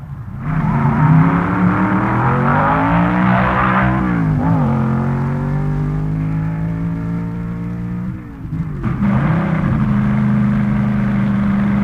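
A Chrysler-powered drag race car, the new Waltz Puffer 2, at the 1961 NHRA US Nationals, its engine holding a loud, steady rough drone with a brief dip near the end before resuming.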